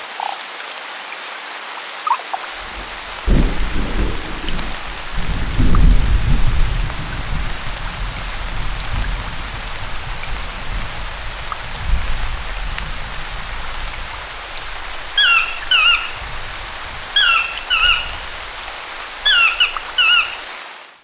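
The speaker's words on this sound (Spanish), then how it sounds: "la lluvia cae con generosidad entre los meses de octubre y marzo" Steady rain patters over low rumbling thunder, with rhythmic chirping calls, like frogs or insects, repeating toward the end.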